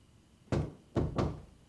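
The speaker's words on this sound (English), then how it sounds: "now there's somebody's at the door." Three dull knocks on a door during a Better Call Saul episode, one then a quick pair, fairly close and muffled, with no talk.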